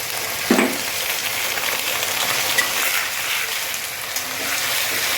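Frying and sautéing sizzle from a pan of ginger and garlic after water is added, a dense steady hiss close by. There are a few soft clinks and scrapes from stirring.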